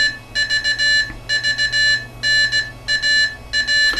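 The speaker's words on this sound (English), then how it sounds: "The unit will now send CW." A Micromorse unit sends Morse code CW as a clear, steady electronic tone keyed into short and long beeps in grouped bursts, loud and close with no talk.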